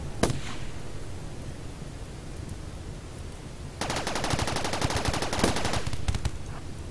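Colonist gunfire in RimWorld: a single sharp shot opens, then after a lull a fast, loud burst of rapid-fire shots runs for about two seconds before stopping, with a couple of scattered pops afterward.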